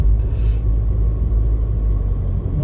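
A Daihatsu Atrai van's engine drones with a steady low rumble while driving, sluggish and then rising in revs, loud and continuous with no talk.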